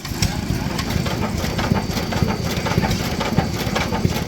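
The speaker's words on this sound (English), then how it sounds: "passing an array of vintage gas engines on display" Vintage gas engines run on display at a steam railway depot, a steady, loud, chugging idle with a faint regular beat, while a person talks over it.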